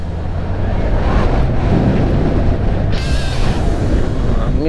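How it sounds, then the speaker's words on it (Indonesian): Strong wind buffets a camera mounted for a motorcycle vlog on a Revo motorcycle ride, making a loud, continuous low roar and rumble that swells slightly toward the end. "Angin kencang itu kan."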